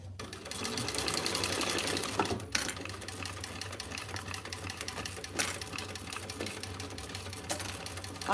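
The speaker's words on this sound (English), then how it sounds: "I'm back stitching over that key fob." A sewing machine back-stitching over a key fob on a small bag, a close, fast continuous mechanical whirring with brief pauses and restarts, no voices over it.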